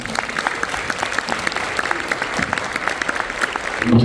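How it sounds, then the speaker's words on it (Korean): A church congregation gives steady, even applause to welcome a pastor, with many hands clapping close and loud throughout. "격려와 환영의 박수 한번 해주시면 감사합니다"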